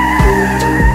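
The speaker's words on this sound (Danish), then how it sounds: "En bil drøner forbi, som om de leder efter nogen." A car speeds past loudly with squealing, skidding tires. A sustained, tonal screech carries over a heavy engine roar, and two low whooshing surges pass by up close.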